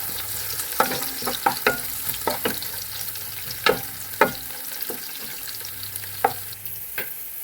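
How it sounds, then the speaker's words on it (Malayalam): Coconut pieces frying with beef in a pan for a beef fry, stirred with a utensil that scrapes and taps sharply and irregularly over a steady low sizzle, close and fairly loud, with no talking. "തേങ്ങാക്കൊത്ത് ഇട്ടൊന്ന് ഇളകി ഒന്ന് ചെറിയൊരു കളറാവും"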